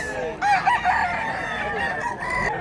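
A rooster offered for sale crows nearby, its loud, wavering call rising over faint background voices and farm ambience.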